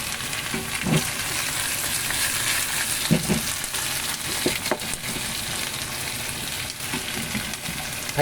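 Kimchi fried rice ingredients stir-fried in an oiled pan, a loud continuous sizzle with scattered scraping strokes of a spatula, close and steady throughout.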